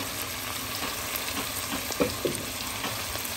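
Radish curry frying in a pan makes a faint, even sizzle close by, with a couple of soft clicks of a utensil midway and no speech.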